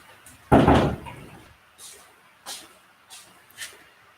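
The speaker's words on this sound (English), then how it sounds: "I'm going to close the door." An indoor door swings shut with one loud, solid thud, then a few faint knocks and rustles as things settle nearby.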